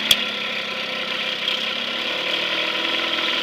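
A 1955 Mercury 5 HP Mark 5 outboard motor runs at a steady idle, close and even. A single sharp click comes at the start as the motor is shifted into gear.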